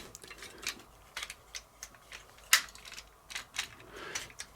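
A ratcheted joint on a Transformers Zeta Toys Fly Fire figure clicks in short, uneven bursts, with one sharp louder snap near the middle, close up and alone in a quiet room.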